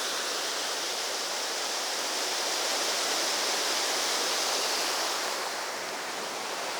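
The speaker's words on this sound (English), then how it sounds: "Now you might remember this waterfall from last time." Roaring waterfall in Peak District woodland at North Lees in winter, a loud continuous broadband rush of falling water heard close, with no voices.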